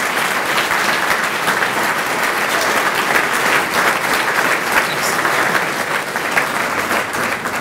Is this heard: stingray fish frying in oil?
no